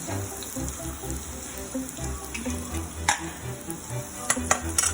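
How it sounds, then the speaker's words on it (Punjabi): Hot oil sizzles and crackles steadily as tempering is poured into urad and chana dal, with a low background rumble and a few sharp pops near the end. "ਤੜਕਾ ਤਿਆਰ ਆ ਤੇ ਹੁਣ ਆਪਾਂ ਦਾਲ ਦੇ ਵਿੱਚ ਐਡ ਕਰਦੇ ਹਾਂ"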